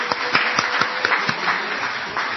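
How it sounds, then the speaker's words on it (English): Applause from an audience at a Bhagavad Gita talk, steady and fairly soft clapping from a group, somewhat muffled and continuous for a couple of seconds. "Let's have a big round of applause for this young lady here."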